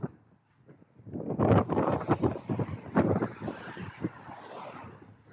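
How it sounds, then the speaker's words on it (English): Strong gusty wind buffets a close microphone, rumbling and roaring unevenly, with brief surges and no clear speech. "Sorry, it's windy."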